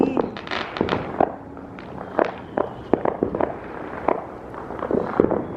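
Fourth of July fireworks in a residential neighborhood go off back to back, a rapid irregular string of sharp cracks and pops at middle distance.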